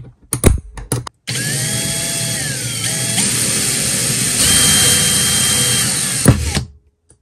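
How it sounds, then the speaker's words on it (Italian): Cordless drill driver boring into a piece of metal with a 1 mm HSS bit: a short startup burst, then a steady loud high whine that shifts pitch briefly and cuts off near the end. "Quindi proviamo su questo pezzo di metallo questa punta da 1 mm."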